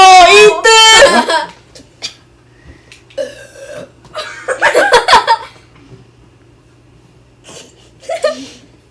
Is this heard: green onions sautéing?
no